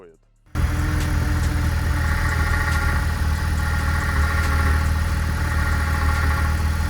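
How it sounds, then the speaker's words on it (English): A 1987 BMW E30 engine idles steadily up close, with a constant mechanical whine and rumble from a noisy power steering pump. It starts abruptly after a brief moment of quiet. "This is the power steering pump, it makes noise here."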